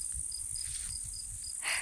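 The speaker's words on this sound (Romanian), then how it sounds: "Cred că auziți și voi greierii." Crickets chirp outdoors in a natural setting, with a steady, evenly spaced pulse of close, clear chirps that continue without speech until a brief brighter rustle at the end.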